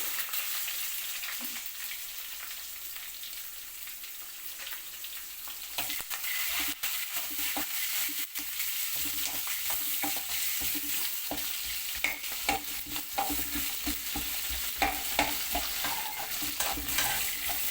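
Chopped onions frying in a pan for a bitter gourd fry, a constant close sizzle that grows busier partway through, dotted with spoon scrapes and stirring clatter, no talking.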